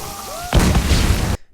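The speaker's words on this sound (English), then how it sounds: "Carrying barrels of gunpowder, this explosive beast detonates on impact, dealing massive damage to walls, buildings and unlucky troops" A loud, close blast from a gunpowder-laden Fire Ox siege beast detonating on impact in Stronghold Warlords. It bursts suddenly after a quiet stretch and rumbles on with crackling debris for about a second before cutting off.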